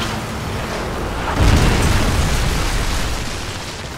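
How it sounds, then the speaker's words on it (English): A Predator missile explodes in a Call of Duty game: a deep, loud boom swells about a third of the way in and rolls on as a sustained rumble under continuous battle noise. "Friendly Predator missile inbound."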